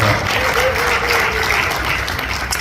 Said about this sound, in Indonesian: Sekali lagi beri tepuk tangan buat Pak Rubis.